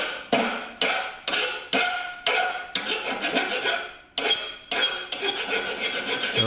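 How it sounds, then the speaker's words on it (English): A metal file rasps in repeated strokes over the hacksawed end of a motor shaft clamped in a vise in a workshop. The strokes are loud and close, each a harsh scraping burst, short at first and then quicker and longer. "I just filed that down too while I had it in the vise"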